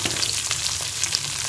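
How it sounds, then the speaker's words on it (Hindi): Okra fries in half a cup of ghee in a kadai, giving a dense, continuous hiss and crackle, steady and close with small popping spits. "भिंडियों को जो है वो फ्राई कर लेंगे।"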